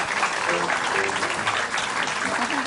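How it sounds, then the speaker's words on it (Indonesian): Steady clapping from a small group fills the short clip at an even level, with a few voices mixed into the applause. "Tepuk tangan dulu buat mereka"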